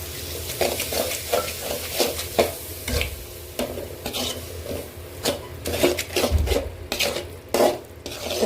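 A spoon stirs a ground masala and yogurt mixture for a West Bengal style creamy chicken gravy, scraping and clinking against the pan over a steady sizzle, with repeated strokes throughout.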